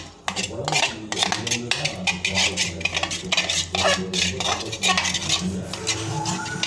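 A spoon stirs a thick mixture with Dairy Milk chocolate in a pot, scraping and clinking against the sides in a steady, close rhythm that goes on throughout.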